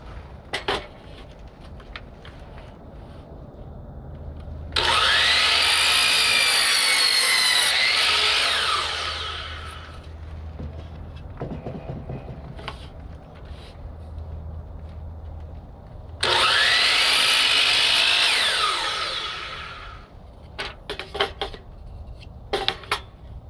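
A power tool cuts a hole in a van panel in two loud, sustained bursts of harsh grinding, with quieter handling and clicks in the pauses between them.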